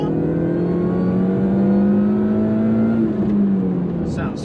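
An upgraded Mini pulls hard in second gear, its loud, close engine droning and rising in pitch steadily throughout the run.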